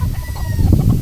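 Young stag roosters, fighting cocks kept for sale on a farm, cluck and call in a short, close burst of low fowl sounds.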